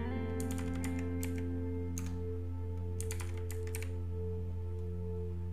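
Light tapping on a computer keyboard while entering login details during a Linux install, several short clustered keystrokes in a few quick bursts over a quiet steady hum, with no speech.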